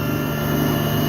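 A retrofitted Matsuura Mach3 CNC machine spindle spinning near maximum speed, around 6,000 RPM, with suspected worn bearings, gives a steady, even whine with a constant hum underneath, unbroken and fairly loud throughout.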